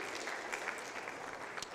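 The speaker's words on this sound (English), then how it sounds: "you can give her a clap as well." Audience applause at an unreasonable-thinking summit welcoming a panelist to the stage, a steady wash of many hands clapping at moderate volume for the whole short stretch, with no voices over it.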